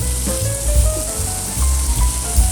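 Crépinette browning lightly in a frying pan, giving a steady close sizzle with faint tonal hums over the frying hiss, no voices.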